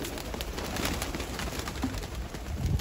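A perched pigeon coos softly in a few low, throaty calls against faint outdoor background noise, with no speech.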